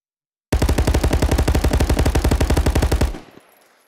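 An automatic weapon in Call of Duty VR fires one sustained rapid burst of evenly spaced, loud shots for about two and a half seconds, then cuts off into a short echoing tail.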